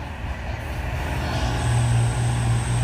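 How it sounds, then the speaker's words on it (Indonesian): A red-tailed tanker truck climbs a hill with a steady low engine drone that swells slightly as it passes, with a thin high whine joining partway through and no voices. "Teman-teman, ini ada truk tangki pantat merah"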